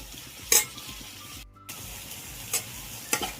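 Mutton frying with its masala in a pan for mutton saaru makes a continuous close sizzle, with a few sharp clinks and scrapes as it is stirred. No one speaks.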